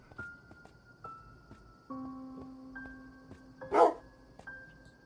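Dogs bark in the Minecraft horror game, one sharp yelp-like burst standing out near the end over steady synthetic tones and soft game ambience.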